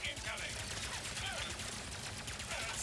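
Rapid bullet fire in Ratchet & Clank: Rift Apart rattles in a dense, continuous stream of quick crackling shots over a low, pulsing game soundtrack, fairly quiet overall.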